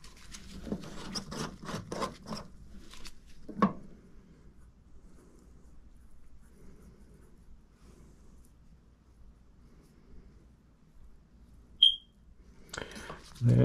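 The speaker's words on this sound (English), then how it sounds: "Smoke alarm" A powered smoke alarm in a home gives a single short, high-pitched chirp near the end. Before it come scattered rubbing and handling noises from work on an AC drain line, then a quiet stretch.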